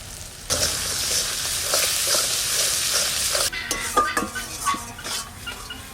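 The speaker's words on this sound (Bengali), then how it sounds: "এই মশলাটাও আমি সুন্দর করে কষাই নেবো" Spice masala for a mutton curry sautéing in a pan, a steady bright sizzle with a spoon repeatedly scraping and clinking against the metal, close and loud.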